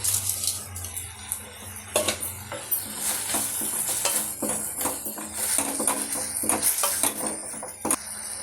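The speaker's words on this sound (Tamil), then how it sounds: "இப்போ இஞ்சி பூண்டு பேஸ்ட் எல்லாமே இது கூட சேர்ந்து நல்லா வதங்கிட்டு இருக்கு." Ginger garlic paste and crab sauté in a pan with a soft sizzle beneath frequent metal utensil scrapes and clinks as the mix is stirred, close and moderately quiet.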